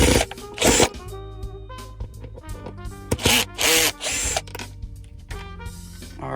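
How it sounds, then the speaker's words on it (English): Two Phillips screws being backed out of a 2007-2014 Chevy Tahoe center console lid, with short bursts of a whirring driver and scraping, clicking handling noises between them, close up. "you have to take these two Phillips screws out"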